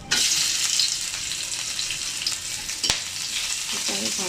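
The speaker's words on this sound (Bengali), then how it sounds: "আর দিয়ে দেবো পেঁয়াজ।" Onion fries in a pan with cinnamon stick, a loud steady sizzle that starts suddenly and continues close up, with one sharp clack partway through and no speech.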